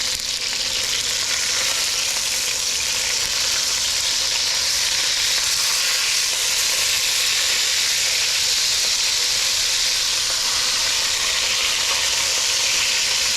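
Beef for ropa vieja browns in a hot pan with a steady, loud, dense sizzle that runs unbroken from start to finish and carries no talking.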